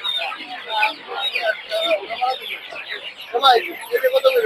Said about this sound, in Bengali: এগুলো হচ্ছে টাইগার মুরগির বাচ্চা।